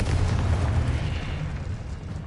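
A Confringo fire-blast spell detonating in the Hogwarts Legacy video game, a heavy booming explosion with a deep rumbling low end that decays over a couple of seconds.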